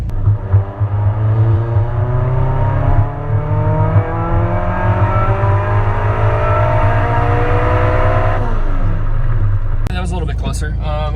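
A K-series-swapped Mini Cooper engine revs hard in a loud, sustained acceleration run, its rising harmonic pitch climbing steadily over several seconds before cutting off near the end, close and continuous.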